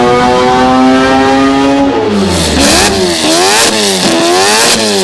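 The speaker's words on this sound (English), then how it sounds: "it is two 13Bs bolted together with a little shaft, somehow holding together and making 4-rotor noises" Quad-rotor Volvo wagon built from two 13B rotary engines joined by a shaft, revving extremely loud and close: a steady high drone rises, then swoops up and down through several sharp throttle blips.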